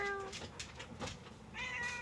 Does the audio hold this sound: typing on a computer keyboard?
no